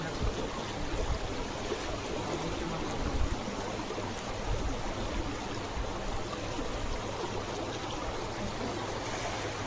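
A swollen village river in the Konkan countryside rushes steadily after days of rain, a continuous broad wash of flowing water heard up close with no break.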